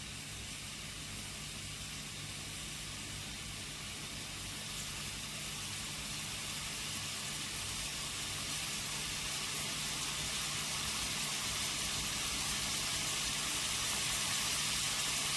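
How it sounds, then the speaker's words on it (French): Onion frying in a hot wok, a steady broad sizzling hiss that builds slightly in loudness and carries on alone throughout. "Donc pour le wok, là, on est en train de faire revenir l'oignon"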